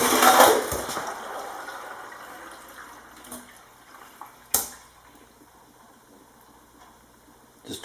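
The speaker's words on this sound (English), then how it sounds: "Just a couple little bubbles." Coolant flushing through a Cadillac radiator opens with a brief gush of water, then settles into quiet trickling broken by a few sparse gurgles and small pops. The sounds are close and faint, with no talking.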